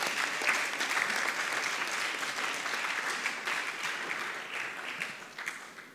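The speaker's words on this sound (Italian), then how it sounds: "Grazie, un applauso ulteriore." Applause fills a city council meeting in Ascoli Piceno: dense, steady clapping from the chamber holds for about six seconds and fades slightly at the end, with no talking over it.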